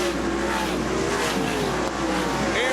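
Sprint cars racing around Sunset Speedway Park in a Western Sprint Tour event: loud, steady engine roar with shifting pitches as several cars drone past continuously.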